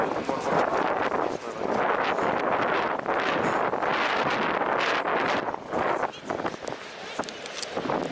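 Gusty wind on the Baltic Sea coast at Svetlogorsk buffets the microphone with loud, rumbling bursts that rise and fall throughout, briefly easing near the end.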